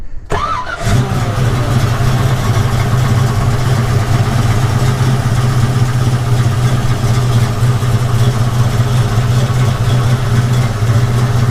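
A 1972 Chevrolet Nova's GM engine starts up with a quick crank, then runs loud and close with a deep, steady rumble and throttle revs rising through the idle.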